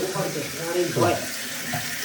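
Water runs steadily from a tap, a broad hiss with some splashing, continuous throughout at moderate loudness.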